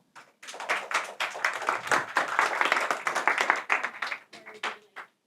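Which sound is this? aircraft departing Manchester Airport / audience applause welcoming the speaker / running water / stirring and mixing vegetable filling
audience applause welcoming the speaker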